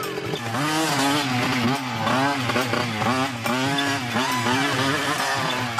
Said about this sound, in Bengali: এটা আমার জন্য বানানো বিশেষ মডেল। তোমরা যাও, আমি চিনগামকে নিয়ে আসছি। আমি স্পিড বাড়াচ্ছি।